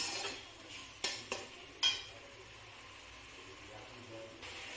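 Fried shukto vegetables get stirred in a kadai, with a few sharp scrapes and knocks of a spatula against the pan over a quiet low sizzle; no one speaks.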